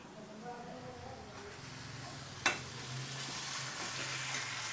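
Onions, tomatoes and green chillies frying in a pan, a faint steady sizzle with a sharp clatter midway as ingredients go in, under a speaking voice.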